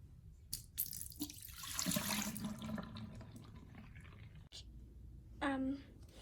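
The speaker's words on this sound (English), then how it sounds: "so pour out the water and like the soapy water" Water is poured and sloshed into a small cup used for washing, with gurgling splashes and a brief trickle, fairly close and quiet, alongside soft voices.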